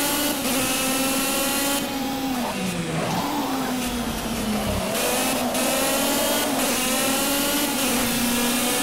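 A race car engine in the Project Cars video game revs and accelerates steadily, a continuous loud drone with rising and falling pitch as it shifts, dipping briefly around the middle before climbing again.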